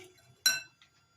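A spoon strikes a bowl of cake batter once, a single sharp, close clink with a short ringing tail amid near silence.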